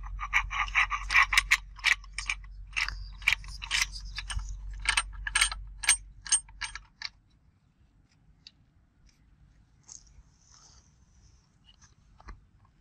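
A battery is fitted into a total station surveying instrument, giving a quick run of close clicks, snaps and plastic rattles for several seconds, then near silence.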